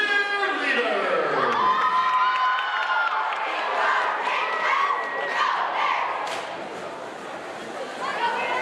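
A basketball gym crowd roars and cheers for the Bear River cheerleaders, loud and sustained, with shouts and whoops from many voices throughout and easing slightly near the end.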